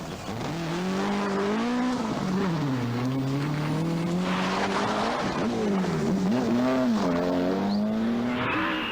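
Rally car from the 1986 Galway Rally being driven flat out on a stage, its engine note loud and sustained, rising and falling through gear changes for the whole stretch, with tyres squealing briefly near the end.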